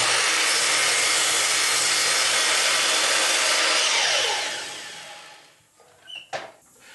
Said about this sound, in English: I'm just going to trim some of these longer pieces on the sliding miter